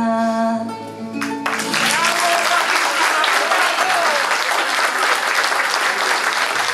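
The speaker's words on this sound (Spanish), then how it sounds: "Bueno, de pie, un aplauso fuerte." A concert audience at a guitar school performance during a local cultural week bursts into loud, sustained applause right after the final guitar notes fade, dense clapping filling the hall for several seconds.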